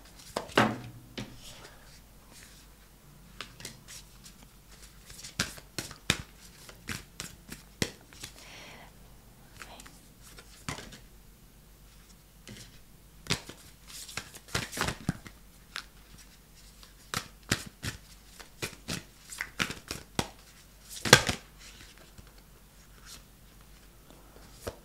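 Moonology tarot cards are shuffled up close in a quiet room, giving scattered crisp, papery flicks and taps at an uneven pace. The sound stays soft and intimate, with no talking.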